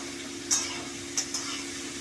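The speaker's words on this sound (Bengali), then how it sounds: "আমি আলুটা প্রথম ভেজে নিলাম" Potatoes fry in a pan for a vegetarian potato and pointed gourd curry, a soft steady sizzle with a few brief stirring scrapes, quiet and close, no talking.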